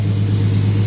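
A car engine revving with the muffler resonator removed, a loud, raw, continuous drone with a strong low hum, heard close and alone.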